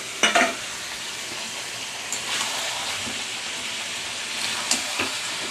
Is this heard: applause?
no